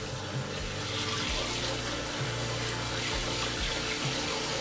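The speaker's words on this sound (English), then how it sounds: "I'm going to fill hot water." Hot water runs steadily from a tap into a Breville Cafe Roma portafilter, a continuous close hiss and splash at moderate level with no speech.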